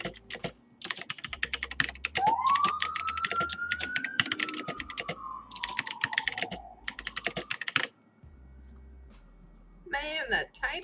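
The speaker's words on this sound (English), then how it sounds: "that typing." Rapid typing clatters on a computer keyboard up close, dense bursts of keystrokes running for several seconds, pausing briefly, then resuming, with a person talking over parts of it.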